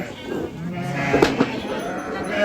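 Sheep bleating at a farm in Thailand, a few close bleats rising out of a busy outdoor crowd where people are talking.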